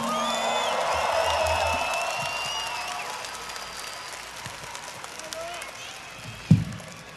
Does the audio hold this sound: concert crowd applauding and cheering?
yes